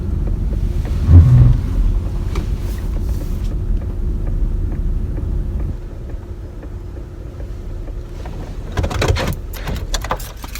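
Cold night wind buffets the microphone in low rumbling gusts, steady and fairly loud, easing partway through before gusting again.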